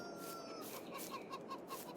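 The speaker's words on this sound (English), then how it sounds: "Put a couple extra roosters in" Chickens and roosters in the Farming Simulator 22 video game cluck in a quick rhythmic series of faint clucks over a steady background hum.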